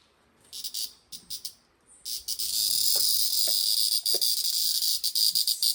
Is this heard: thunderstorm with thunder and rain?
no